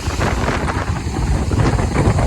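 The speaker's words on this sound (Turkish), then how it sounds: "Biraz da rüzgar esiyor. Sesi de var." Steady wind buffeting a microphone near Tortum Waterfall, a loud low rumble with gusty swells throughout and no voices.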